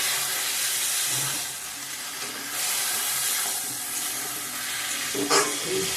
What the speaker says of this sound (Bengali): মতো পেস্টটা দিয়ে দেব ভালো করে কষিয়ে নেবেন